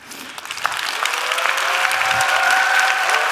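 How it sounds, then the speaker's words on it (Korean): An audience at a Korean motivational lecture breaks into applause, the clapping swelling quickly from scattered hands to a full, sustained ovation that fills the hall. "박수가 나올 줄 모르네."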